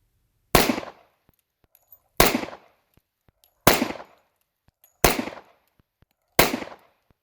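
A 1911 pistol with a standard grip safety, fired at an outdoor range: five sharp, loud shots spaced about a second and a half apart, each with a short decaying echo and near silence between.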